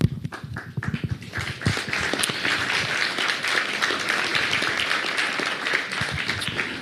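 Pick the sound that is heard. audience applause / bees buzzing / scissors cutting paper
audience applause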